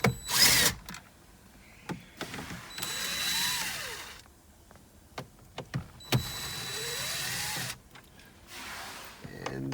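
Screws being undone on a Holden Cruze head unit with a power driver: several short whirring bursts with rising and falling pitch, broken by clicks and handling knocks, close up with no talk.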